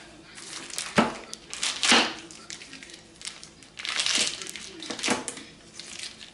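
Plastic packages of fat being opened for grinding venison burger, faint crinkling and crunching plastic with several sharp louder rustles spread through a quiet room.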